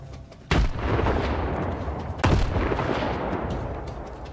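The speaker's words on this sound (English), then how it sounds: "I'm gonna throw grenades." Two heavy grenade blasts in the shooter Stalker 2, each a sudden loud boom followed by a long rumbling, debris-filled tail, the second landing about two seconds after the first.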